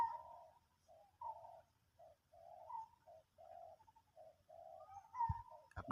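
Soft, low dove cooing repeats in a steady rhythm outdoors, fairly faint, ending with a sharp thump.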